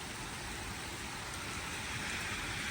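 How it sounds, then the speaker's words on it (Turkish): Steady rainfall in a garden during a Zonguldak storm, a dense, even hiss of drops on surfaces filling the whole stretch, close and constant with no voices. "Biraz daha yağar inşallah"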